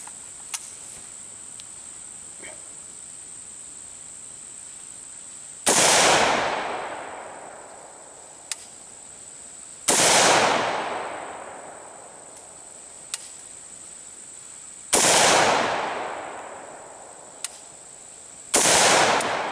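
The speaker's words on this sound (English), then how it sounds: "We'll fire off a few rounds just to try to get an average of what we're getting out of this barrel." Polish Tantal AK-74 variant rifle firing four single shots outdoors, each a loud sharp crack with a long decaying tail, spaced several seconds apart over a steady insect-like drone and a few faint clicks.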